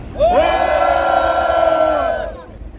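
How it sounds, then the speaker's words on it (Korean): A crowd at a press conference lets out one long, loud sustained shout of cheering that swells quickly, holds for about two seconds, then fades. "우리 모두 격한 함성을 외쳐주시기 바랍니다"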